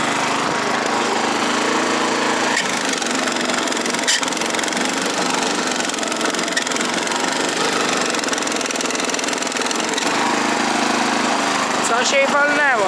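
A mower cuts a cover crop on a farm field, its engine droning steadily and close throughout, with brief voices near the end.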